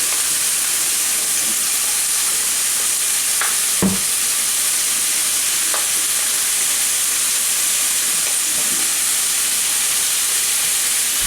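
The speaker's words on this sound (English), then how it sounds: "we're going to put our fan on just because we're frying meat in the kitchen" Steady, dense sizzling of bacon frying in a pan in a kitchen, a constant high hiss throughout with a few faint clinks and scrapes.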